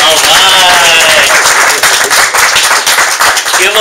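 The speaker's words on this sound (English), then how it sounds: "Give her a nice big round of applause." A meeting audience breaks into loud, sustained applause, dense clapping filling the room while voices carry along underneath.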